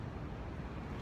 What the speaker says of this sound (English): I'm trying to get out the wind a little bit because it's so windy.